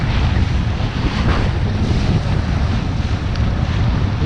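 Gusty wind buffets the microphone during a kitesurfing session, a loud, continuous roar with rumbling low-end surges and no pauses throughout.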